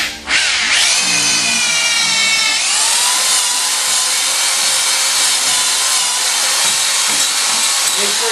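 A power drill bores threaded holes freehand, a loud, close high-pitched whine that bites in with a rising squeal, then holds steady while the bit cuts down and clears chips.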